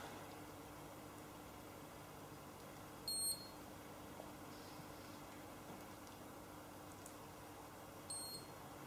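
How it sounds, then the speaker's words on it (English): A galvanic spa facial device gives a short electronic beep to signal the end of a treatment phase, with a second faint beep later, both quiet against a steady low hum of room noise. "That final beep just tells me again that I've come to the end of that phase"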